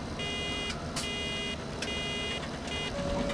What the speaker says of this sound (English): Nope, now it sounds like an alert's going off.